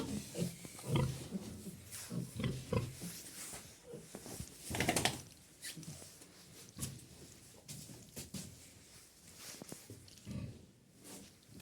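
A sow that is eating poorly grunts and snuffles repeatedly in irregular bursts, fairly quiet and close, with occasional soft knocks in between.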